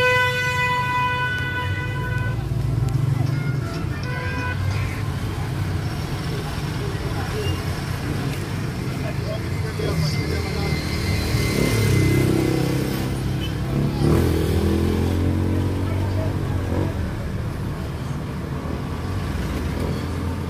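Busy street traffic in Tanzania with motorcycles and cars passing close by, a continuous loud engine rumble with revving swells and a horn toot, people talking underneath.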